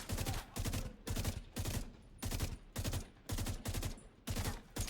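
An M16 rifle fires in The Division 2 in rapid bursts of automatic gunfire, loud and close, each volley cutting off into a short pause before the next.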